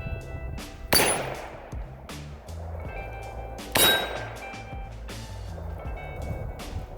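7.62x39 rifle shots fired from about 25 to 30 yards strike targets on a DIY 2x4 stand, giving two sharp, loud cracks about three seconds apart, each with a metallic ring, amid softer clinks and clatter.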